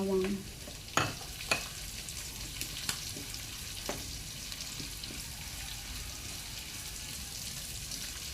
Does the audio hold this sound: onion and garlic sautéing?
yes